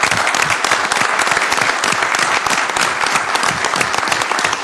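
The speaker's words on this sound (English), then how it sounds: "round of applause." Audience at a Sacramento city council meeting breaks into a steady round of clapping, dense and continuous from start to finish, loud and close in a large chamber.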